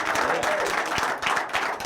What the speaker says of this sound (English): Soprano fans out there, clap.